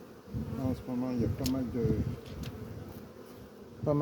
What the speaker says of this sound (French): Là, les abeilles, elles sortent. Ça n'arrête pas.